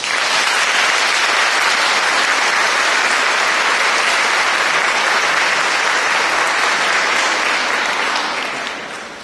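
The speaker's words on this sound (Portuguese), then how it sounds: "pedia-vos que o acolhessem com uma salva de palmas" An audience at a Catholic retreat in Lamego applauds to welcome a priest before his sermon. The clapping is loud, dense and sustained for about nine seconds, then begins to fade at the end.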